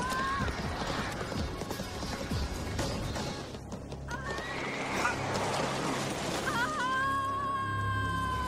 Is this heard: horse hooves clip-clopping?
yes